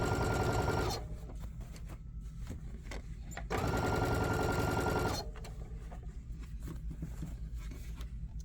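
A sewing machine stitches a strap seam on a fabric wine bag, running in two loud bursts of about a second and a second and a half, separated and followed by quieter handling noise.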